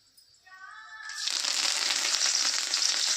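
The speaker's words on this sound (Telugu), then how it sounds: "తర్వాత కొద్దిగా కరివేపాకు వేద్దాం." Curry leaves drop into hot oil with biryani leaves already in the pan, a quiet lead-in giving way to a loud, steady, close crackling sizzle that holds to the end.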